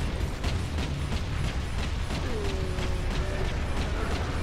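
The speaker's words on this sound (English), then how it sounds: "Rotate turret." A mechanical turret in the Space Marine video game grinds and creaks as it rotates, with ratcheting gear clicks over a dense, loud rumble of battle noise.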